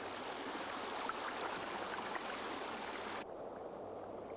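A mountain stream runs steadily over rocks where a European dipper feeds, a constant close rushing gurgle that drops sharply in brightness near the end.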